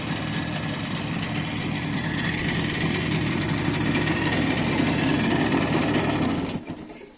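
An Izh Jupiter motorcycle engine runs steadily at idle with a continuous, buzzy two-stroke rattle, loud and close, then cuts out abruptly near the end.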